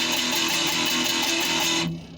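Fast, continuous distorted electric guitar power chord chugging with the fretting finger lifted and pressed quickly, loud and sustained before cutting off abruptly, no voices.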